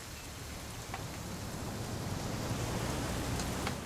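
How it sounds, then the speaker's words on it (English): Steady rain falls in What Remains of Edith Finch, a dense continuous hiss of drops on surfaces with faint scattered patters, alone and unbroken. "It's gonna rain the whole weekend, isn't it?"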